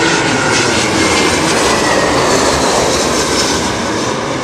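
A jet airliner roars loud and close at London Heathrow Airport in stormy weather, a dense broadband engine rumble with a high whine that holds steady and alone for the whole stretch.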